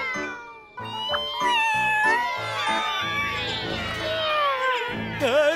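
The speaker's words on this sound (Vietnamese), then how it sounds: "sao có con mèo nó ở đây?" Animated cartoon cats meow repeatedly and loudly, overlapping high whiny cries with rising and falling pitch, some drawn out like a caterwaul, close and prominent.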